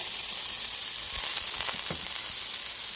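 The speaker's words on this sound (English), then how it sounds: "Now, I'm going to go ahead and start dropping in my broccoli. All this butter." Baby broccoli dropped into hot butter in a pan, giving a steady, fairly loud sizzle with a few soft bumps as pieces land.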